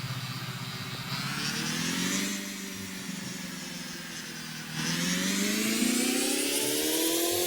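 A video game combustion engine revs up in two rising surges, pitch climbing and dropping with each, a steady mechanical drone between, no voices.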